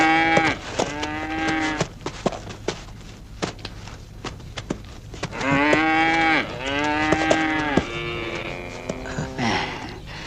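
Several cattle moo in long, drawn-out calls that overlap and repeat, fairly close, with soft footsteps and knocks between the lowing.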